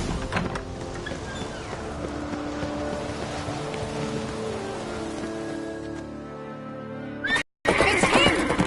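A horse neighing in the video game The Witcher 3, a drawn-out whinny over game music and ambient background, followed by a brief cut to silence and a burst of noisy game sound.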